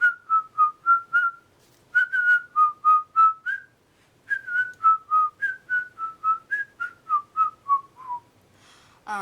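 A person whistles a lively tune alone, a long run of short, clear notes in bouncing phrases with brief breaths between.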